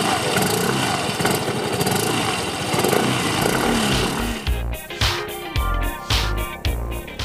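A Yamaha D'Elight 125 scooter with an air-cooled two-valve engine runs with a continuous near engine drone and road rush. It then gives a series of rhythmic revs that rise and fall, and no one talks.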